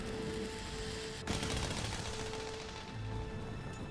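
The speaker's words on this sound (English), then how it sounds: "Ooh, someone's firing cannons." Cannons fire at Kulve Taroth in Monster Hunter: World: a sharp blast lands, then a crackling, rumbling barrage of shots continues steadily, with no one talking.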